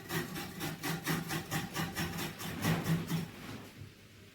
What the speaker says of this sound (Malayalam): ഞാൻ അമ്മക്ക് കുറച്ച് തേങ്ങ ചിരകി കൊടുക്കുന്നു